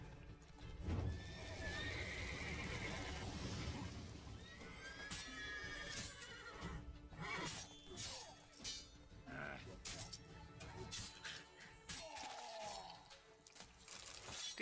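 A horse in The Witcher 3: Blood and Wine whinnies loudly near the start amid game ambience, followed by hoof clip-clops, a shattering crash and scattered action sounds, with someone talking over parts of it.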